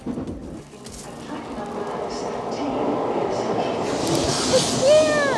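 A Shinkansen bullet train in Japan pulls into the platform: a steady, fairly loud rolling rumble and hiss that builds over several seconds, ending in a brief high chime or squeal near the close.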